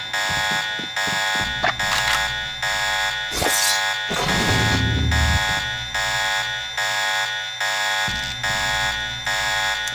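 An alarm blares steadily inside a hotel building in the Deus Ex video game, a loud pulsing electronic ring that repeats in even bursts throughout, with brief thumps and noise bursts of gameplay action mixed in.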